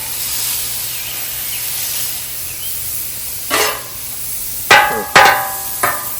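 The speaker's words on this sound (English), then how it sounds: "I'm actually going to smash that into the burger" A burger patty pressed with paper-thin onion on a hot griddle gives a steady sizzling hiss, broken by a few sharp scraping smacks of a heavy spatula near the end.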